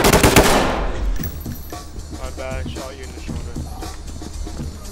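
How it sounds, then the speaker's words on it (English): Gunfire in the tactical shooter Ready Or Not opens with a loud burst of rapid shots, followed by game ambience and radio-style chatter as people talk over it. "My bad, I shot you in the shoulder."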